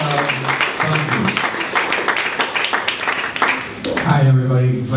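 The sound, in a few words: audience round of applause at panel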